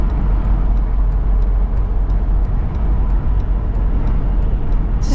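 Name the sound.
wind noise inside a Mercedes G-Wagon at higher speed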